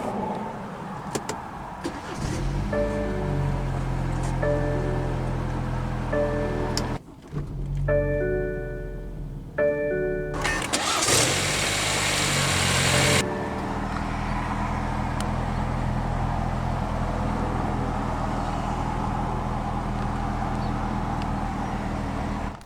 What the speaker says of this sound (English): let's go ahead and start the engine. And it does have push-button ignition.